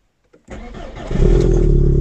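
A swapped Seat Leon engine fitted in a Volkswagen cranks briefly and catches, rising into a loud, close, steady idle.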